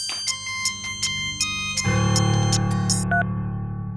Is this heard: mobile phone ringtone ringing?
yes